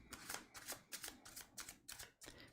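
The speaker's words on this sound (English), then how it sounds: "That shuffling sound." A tarot deck being shuffled close up, quiet rapid riffling in a run of short bursts about every half second, each a soft papery flutter.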